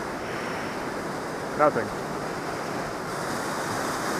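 A powerful Swiss waterfall rushes as a steady, loud roar of falling water, with a brief short voice-like sound breaking through midway.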